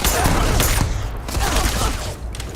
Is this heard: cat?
no